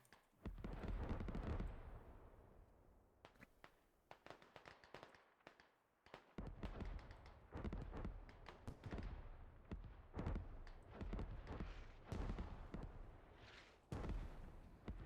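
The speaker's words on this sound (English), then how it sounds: "Oh, mortars coming in, but not good." Incoming mortar and artillery fire in a video game, heard as a series of loud, booming blasts and crackling detonations that repeat irregularly throughout, with a dense rumbling background between impacts.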